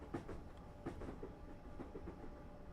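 A Class 377 electric train on the London to Brighton main line in Train Simulator 2018 rolls past faintly, its wheels clacking rhythmically over rail joints in a short, quiet burst.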